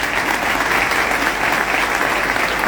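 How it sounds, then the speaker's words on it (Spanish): Audience applause for historian Felipe Pigna at the 17th Berazategui Book Fair, a dense, steady wash of many hands clapping continuously from start to finish with no voices on top. "Muy fuerte el aplauso para Felipe Piña"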